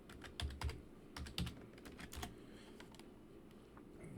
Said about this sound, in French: Là, je mets mon mot de passe pour l'ouvrir.